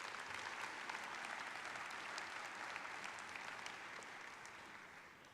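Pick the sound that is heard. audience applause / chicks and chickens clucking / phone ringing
audience applause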